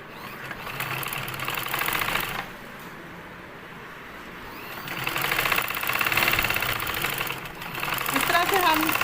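A sewing machine stitches a belted shalwar in rhythmic mechanical bursts that rise, fall away and return, with a person speaking over it.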